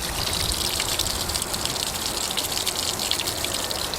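Water gushes and splashes steadily, close by, a continuous rushing flow with no voices.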